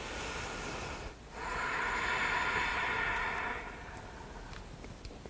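A slow, steady inhalation through the nose during a yoga flow, soft and close, lasting a couple of seconds after a brief pause, with no talking.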